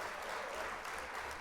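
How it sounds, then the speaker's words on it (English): A canned applause sound effect plays during a live model-building stream, a brief, even wash of clapping and cheering. "We're gonna hit the applause again."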